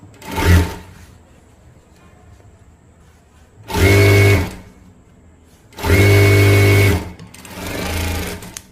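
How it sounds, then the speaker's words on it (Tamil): A sewing machine stitches a fold in fabric in three loud, steady whirring bursts separated by quiet pauses, with a fainter fourth run at the end and no talking. "கரெக்டாக இந்த இடத்துல ஃபோல்ட் பண்ணி இங்கே ஒரு சின்னதாக ஃபர்ஸ்ட் ஒரு தையல் போட்டுக்கலாம்."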